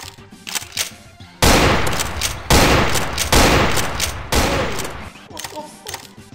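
Gunfire in Garry's Mod DarkRP comes in several loud separate volleys of rapid shots, each starting abruptly and tailing off, with a speaking voice faintly beneath during the quieter gaps.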